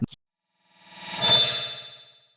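A bright notification bell ding swells in and rings out for about a second and a half after a brief click, clear and alone with no voices.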